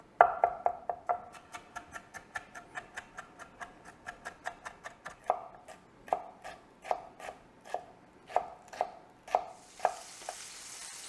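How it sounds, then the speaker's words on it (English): Mushroom stems are chopped with a knife in a quick, even run of crisp thuds, around two dozen close strikes with brief pauses, ending in a soft hiss. "Then we chop up the stems of the mushrooms"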